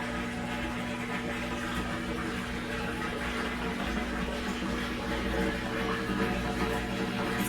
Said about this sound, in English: That's the water emptying out.